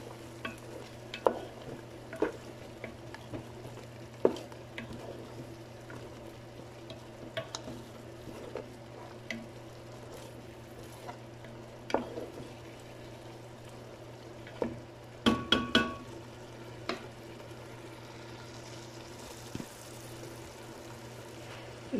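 Food stirred and mixed in a covered pot, with soft scraping and occasional clinks of a utensil against the pot over a low steady hum, including a brief burst of knocks partway through.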